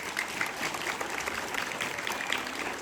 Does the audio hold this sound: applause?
yes